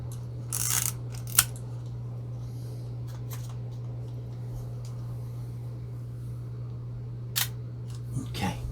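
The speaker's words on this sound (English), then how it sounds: "you make sure that the shutter works" Konica Auto S2 35mm rangefinder film camera shutter clicking, a few sharp isolated clicks spread over a quiet stretch with a steady low hum behind.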